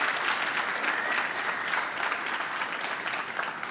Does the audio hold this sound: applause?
yes